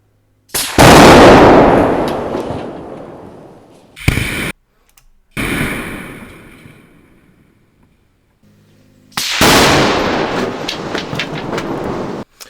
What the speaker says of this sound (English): This is 200 pounds of Tannerite exploding with an L96.